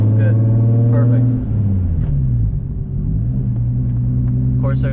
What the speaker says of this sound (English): let's just go for a drive and listen to the sounds of a 1J